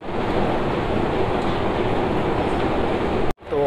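A metro train rumbles and clatters steadily at a station, a loud continuous roar of wheels and carriages heard close by, cut off abruptly near the end.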